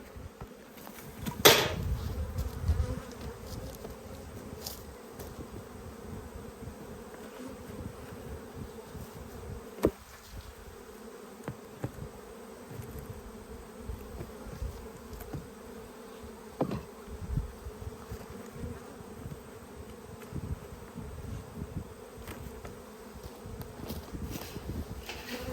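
Honey bees hum steadily around wooden beehives during autumn shutdown before winter, a low continuous buzz with occasional sharper passes of single bees flying close, no talking.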